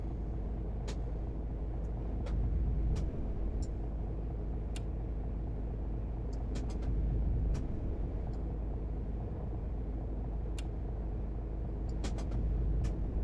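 A bus drives along with a steady low engine rumble and road noise, broken by scattered sharp clicks and rattles and occasional heavier surges, heard from inside and with no talking.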